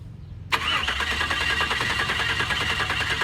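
Starter cranking on a turbocharged Chevrolet Silverado truck engine, kicking in abruptly after a short pause and running as a steady, loud mechanical churn with a rapid pulsing rhythm close to the microphone.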